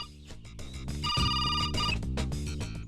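A telephone ringtone sounds in a comedy scene, a melodic electronic ring with repeating tonal bursts over a busy musical backing, moderately loud and continuous for about three seconds.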